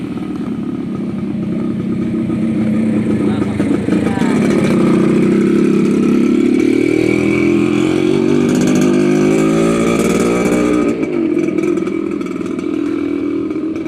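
Motorcycles rumble past close by on a street during a morning walk. Their engines swell and fade loudly over several seconds, with faint voices underneath.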